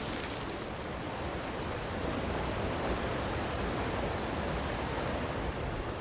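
A cave waterfall in a video game, a steady, fairly faint broadband rush of falling water that stays even and unbroken throughout, with no voices.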